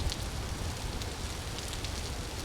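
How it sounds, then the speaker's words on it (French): Heavy rain pours in the video game Vintage Story, a dense, steady hiss of downpour with scattered patters, fairly quiet and continuous, no voices. "Il pleut à torrent."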